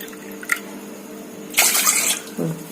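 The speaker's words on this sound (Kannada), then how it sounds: "1 ಬೌಲ್ ಬೆಲ್ಲಕ್ಕೆ 1 ಬೌಲ್ ನೀರು ಹಾಕ್ತಾ ಇದೀನಿ" Water poured from a bowl into a pan in a home kitchen to make jaggery syrup for sweet chapati, a short splashing burst followed by a brief trickle, close and moderately loud.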